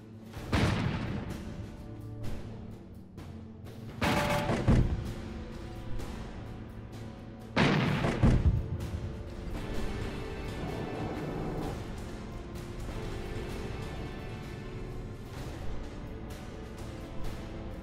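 Stuka dive bombers strike Russian armor in a World War II strategy game set during Barbarossa 1941, with several loud booming explosions near 0.5, 4 and 8 seconds over a continuous rumbling battle bed and scattered smaller bursts.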